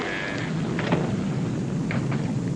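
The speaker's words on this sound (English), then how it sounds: "The rain that's falling down" Steady, heavy rain pours down with a low, rolling rumble of thunder underneath, continuous and fairly loud throughout, in a 1944 film soundtrack.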